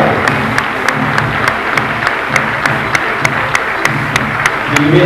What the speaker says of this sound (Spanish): Un aplauso para la compañera de Rodrigo Sánchez, Escuela de Tango Garrabal.